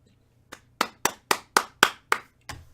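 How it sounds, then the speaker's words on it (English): One person claps eight times in an uneven rhythm, each clap sharp and close against near silence, with no voices. "Round of applause, absolutely"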